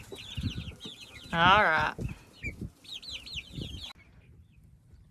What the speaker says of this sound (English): I'm turning my chickens out in here for the first time.